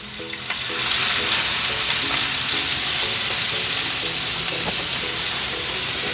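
Garlic, green chili and onion frying in a generous pour of oil on a griddle, a loud, steady, dense sizzle that swells up after a quiet start and holds continuously with no talking.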